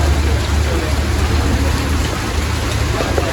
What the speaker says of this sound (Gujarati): વરસાદ તો બરોબરનો ચાલુ થઈ ગયો ગાજવાનું ચાલુ છે